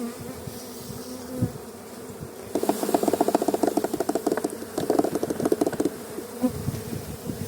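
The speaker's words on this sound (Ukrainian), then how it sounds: "Бачите, скільки бджіл там." Honey bees buzzing in a beehive, a close, dense swarm hum that swells loudly in pulsing bursts after a quieter start, then eases off near the end.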